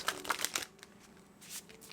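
Tarot cards shuffled by hand in a quick burst of crisp riffling flicks, then a pause and one softer shuffle, close and fairly quiet with no talking.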